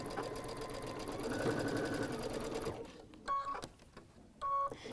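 A sewing machine stitches through fabric seams in a steady, loud mechanical whir for a few seconds, then stops; a couple of short bursts of sewing follow after a pause.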